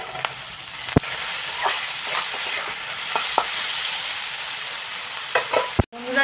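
Vegetables fry in a pan with a continuous close sizzle as peas are added. Sharp spatula knocks and clinks against the pan break in at irregular moments, ending with a louder clatter and a brief drop in the sizzle.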